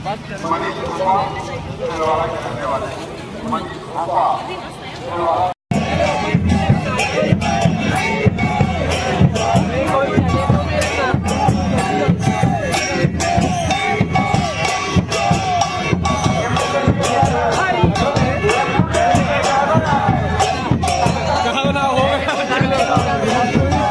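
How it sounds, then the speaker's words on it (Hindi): Massive crowd of pilgrims bathing at the Sangam riverbank during the Maha Kumbh 2025, heard from a pontoon bridge: a dense, continuous roar of voices and shouts, with a quieter stretch of murmuring before the noise swells loudly for the rest. "महाकुंभ में संगम तट पर स्नान करते श्रद्धालुओं की भारी भीड़ आप देख सकते हैं"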